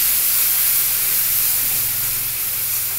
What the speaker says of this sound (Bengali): এটাকেও কষিয়ে নিচ্ছি।